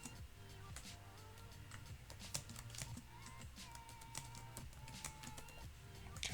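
Fast, faint keystrokes patter on a computer keyboard in a continuous typing run over a low steady background hum.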